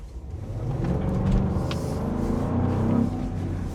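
A supercharged V8 in a 2026 Land Rover Defender 110 drones as a low, steady rumble while the SUV drives, heard from inside the cabin with a constant hum and no sharp revving.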